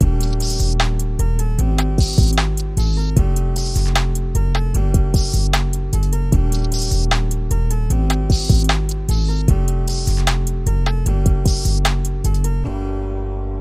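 A hard-hitting trap drum beat programmed in FL Studio, with deep booming 808 bass under snappy snares, rapid hi-hat rolls and crisp percussion, looping loud and steady with no talking.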